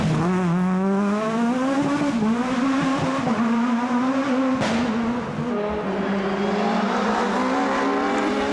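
A rally hot hatch engine, Citroen C3 or Renault Clio, howls loud and close, revving in rising and falling sweeps through gear changes with a brief sharp crack midway, no talk over it.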